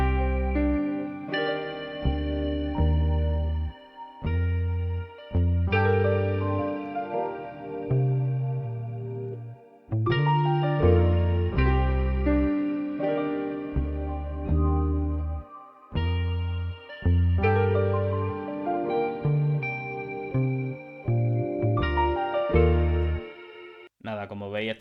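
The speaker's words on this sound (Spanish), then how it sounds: "Continué con esta guitarra del Ampel Guitar," Electric guitar from the Ample Guitar software instrument with shimmer reverb, playing neo-soul phrases in separate chordal bursts with short pauses between them, clear and upfront.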